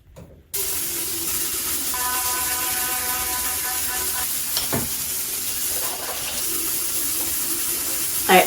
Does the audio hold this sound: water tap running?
yes